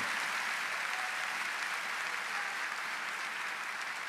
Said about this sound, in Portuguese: Agora não basta a gente aplaudir, irmão.